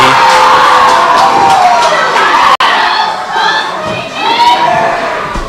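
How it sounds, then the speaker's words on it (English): A wrestling crowd in Paulsboro roars at the villain Mimi during a match, a loud and sustained wall of shouting and cheering with individual voices rising out of it and a brief drop near the middle. "You hear this Paulsboro crowd saying exactly what they think of the notorious Mimi"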